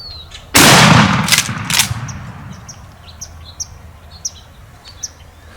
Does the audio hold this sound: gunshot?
yes